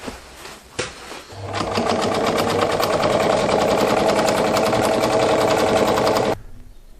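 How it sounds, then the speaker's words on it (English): A sewing machine stitches a fedora onto ghillie suit pants, running in one steady, rapid mechanical whir for several seconds after a brief start, close and loud, then stopping abruptly. "now I can sew on the fedora quite easy"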